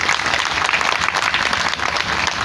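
Loud, dense applause from an audience welcoming a saint at a Devi Bhagwat Katha religious discourse, continuous clapping throughout.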